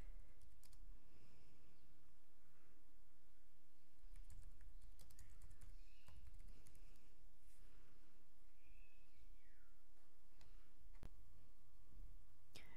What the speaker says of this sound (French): Ensuite, je vais dans texte et là, je vais taper mon texte.